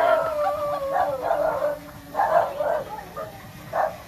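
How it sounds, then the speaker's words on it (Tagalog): Dogs near a park, stirred up by a small drone flying overhead, bark and howl in rising, wavering bursts. A faint steady hum runs underneath. "Medyo nabulabog yung mga aso."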